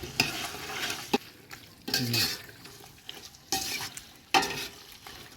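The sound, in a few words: stirring carrots and tomatoes in a pot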